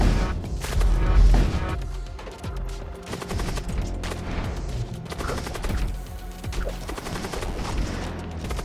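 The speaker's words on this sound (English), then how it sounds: "Oh, okay, we're finally shooting." Spaceship weapons firing during a boss fight in the Void War space combat game, a dense continuous barrage of rapid gunfire bursts and crashing impacts over a deep rumbling backdrop, loud throughout.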